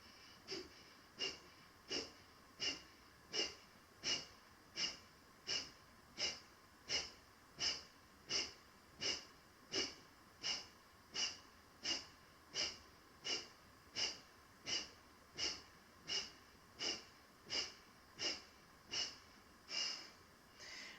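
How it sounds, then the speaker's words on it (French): Rapid, rhythmic breath-of-fire yoga breathing during a Hatha yoga class, with forceful nasal exhalations pulsing steadily about once every 0.6 seconds for the whole stretch, close and alone with no talking. "Respiration de feu avec contraction du périnée."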